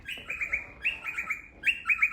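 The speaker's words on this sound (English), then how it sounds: "There is a bird out there on that plant." Small bird perched on a plant outdoors gives quick bright chirps in three short bursts, each a rapid run of high tweets, with quiet gaps between.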